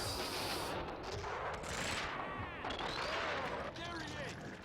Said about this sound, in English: Just shoot these guys.